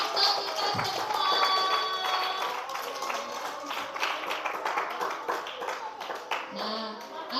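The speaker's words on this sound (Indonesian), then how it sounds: "Tepuk tangan sekali lagi untuk kita semua." Schoolchildren clap together at a Ramadan pesantren event in a primary school in Bondowoso, a dense, steady patter of many hands lasting several seconds, with voices and chatter mixed in over the applause.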